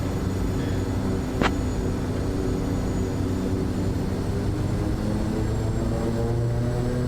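Kodiak 100 turboprop taxiing onto runway 11 at Gustavus, Alaska in a flight simulator: a steady, droning propeller and engine hum runs unbroken throughout, with one brief click partway through.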